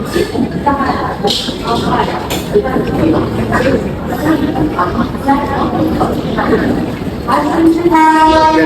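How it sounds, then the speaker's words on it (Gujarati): A passenger train bound from Bhavnagar pulls into a station, its wheels and carriages rumbling steadily throughout, with a horn sounding near the end and people talking nearby. "ભાવનગર વાળી ટ્રેન આવી ગઈ છે"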